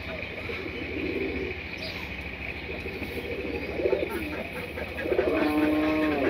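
Pigeons just released at a village home coo in low, repeated calls, with a louder burst near the end, over steady outdoor background noise.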